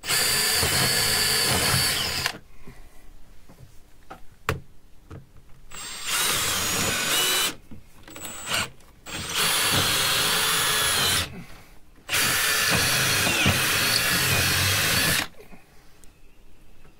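A power drill bores holes into a wooden mizzen base support in loud, sustained bursts of whirring, several separate runs broken by short quiet gaps, with no talking.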